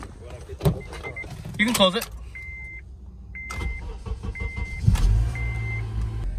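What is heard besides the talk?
car engine starting up and warming up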